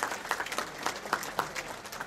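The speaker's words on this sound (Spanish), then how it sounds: "Vamos a darnos todos un fuerte aplauso" A short patch of scattered, fairly distant clapping from a crowd at a cacao farmers' march in San Vicente de Chucurí, Colombia, uneven and light.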